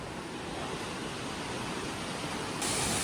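Steady, broad rushing water from the Serella waterfall near Riverston, Sri Lanka, running low, heard as a constant hiss with no voices.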